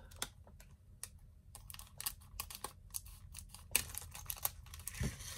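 Scissors cut through doll box packaging, a series of sharp irregular snips and clicks close by, some in quick clusters, over a faint background rustle.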